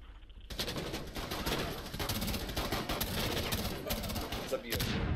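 Gunfire rattles in Tom Clancy's Rainbow Six: Siege on PC, sustained dense bursts of rapid shots that sound moderately close and fill the whole stretch without pause.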